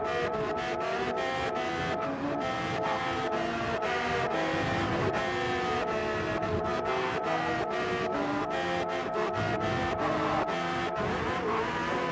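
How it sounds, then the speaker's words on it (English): In Gran Turismo 7, a Porsche race car engine drones steadily under full acceleration, a dense, continuous tonal roar with rapid, regular clicking ticks layered over it and no pauses. "This is just pure acceleration on the Porsche."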